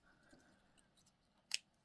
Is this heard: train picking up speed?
no